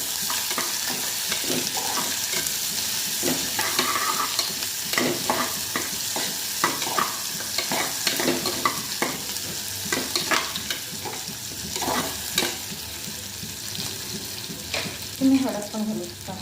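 Chopped onion sizzles in hot tempering oil for coconut rice, a steady fry with irregular scrapes and stirs of a spoon close by.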